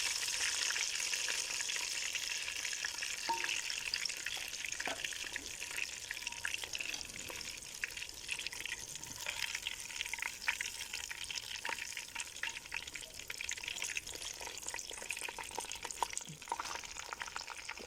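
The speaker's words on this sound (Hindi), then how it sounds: "बिल्कुल ज़बरदस्त मछली फ्राई हो गई है" Fish pakoras deep fry in hot oil, a constant fine sizzling crackle with scattered small pops, steady and moderately quiet throughout.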